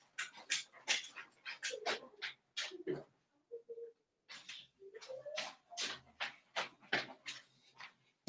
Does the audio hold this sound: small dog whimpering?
yes